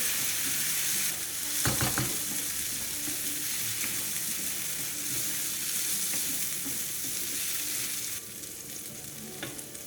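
Rice and vermicelli toasting in a hot pan, a steady dry sizzle running throughout with a few scraping stir strokes near the start and a brighter hiss rising toward the end, no voices.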